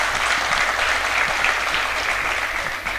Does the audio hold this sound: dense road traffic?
no